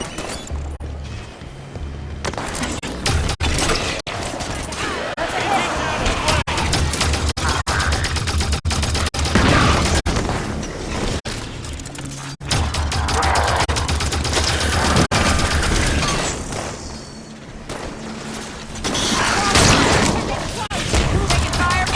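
Video game gunfire, with bursts of rapid shots and booming impacts running almost nonstop through a loud firefight, mixed under occasional voices.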